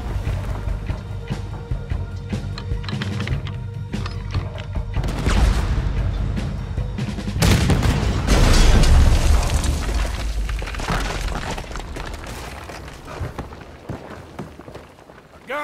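Heavy booming cannon fire from a ship battle in Red Dead Redemption 2, a few deep blasts and a big rumbling impact swelling in the middle, then fading into a lingering roar.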